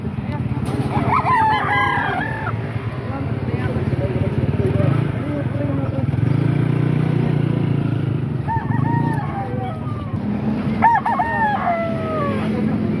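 A rooster crows several times at a distance over a continuous low rumble of traffic and background voices at a rainy roadside market in Calumpit.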